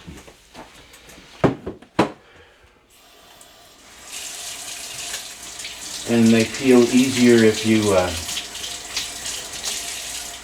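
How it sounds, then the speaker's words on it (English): Water gushes steadily from a tap over shrimp, splashing continuously while a person talks over it; a couple of sharp knocks come before the flow starts. "under running water."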